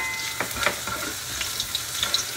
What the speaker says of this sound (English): Now we make hot the pot, and then we fry the onion and the garlic